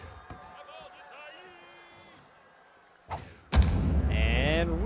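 In a baseball video game, a hard-hit foul ball bangs into plexiglass with a sharp thud, followed by a loud surge of crowd noise, with commentary voices heard underneath.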